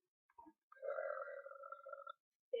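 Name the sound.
burp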